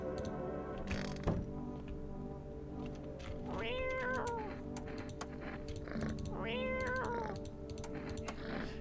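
A cat in a video game gives two clear meows a few seconds apart, heard over a steady hum of background game sound with scattered keyboard-like clicks and no speech.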